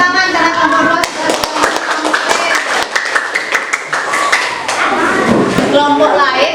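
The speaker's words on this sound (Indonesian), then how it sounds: "Kita beri tepuk tangan karena kelompok 2 sudah" Schoolchildren in a classroom clap for a presenting group, loud, close, uneven clapping mixed with thumps and overlapping voices and chatter.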